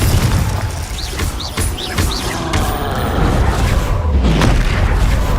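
Confringo spell blasts in the Hogwarts Legacy video game, several deep booming impacts mixed with whooshing magic effects and crashes in quick succession, loud and dense throughout.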